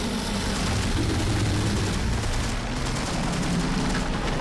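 Sustained weapon fire from Dead Space 3 roars in a dense, continuous wash, loud and unbroken, layered with heavy rumbling game effects and no clear pauses between shots.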